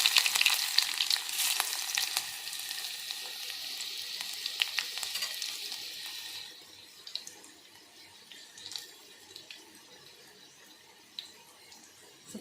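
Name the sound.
garlic frying in a pan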